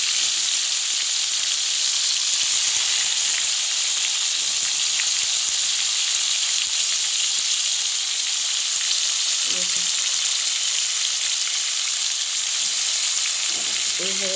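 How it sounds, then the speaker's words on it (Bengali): Prawns fry in hot oil in a pan for a malaikari dish, giving a loud, steady, close sizzle throughout, with a couple of brief stirring scrapes near the end. "এদিকে মাছগুলি ভাজা হচ্ছে"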